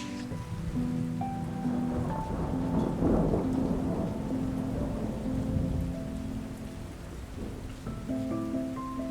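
Steady rain patters throughout while low rumbling thunder rolls underneath, swelling in the middle before easing off, in Georgia.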